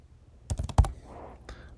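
Several quick keystrokes are tapped on a Mac computer keyboard, one short burst followed by a single later tap, close and clear.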